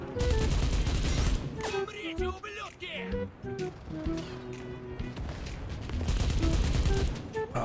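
Rapid bursts of gunfire ring out in the World War II shooter Enlisted, loud and dense, with repeated rattling volleys and sharp shots that nearly fill the clip.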